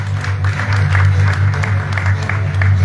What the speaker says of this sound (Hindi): जोरदार तालियों की आवाज आपकी आती रहनी चाहिए